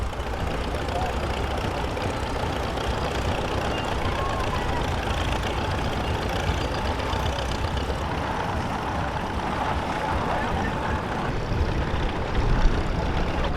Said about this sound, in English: Here we have Jim Randall on a 1952 John Deere MT.